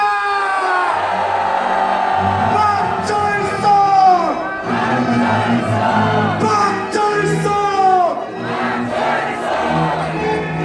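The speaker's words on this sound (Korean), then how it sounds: "박철성 선생님을 향해 뜨거운 함성 부탁드립니다" Loud rally crowd roaring and shouting together at an outdoor patriotic flag rally, a dense sustained cheer filling the whole stretch with voices rising in waves.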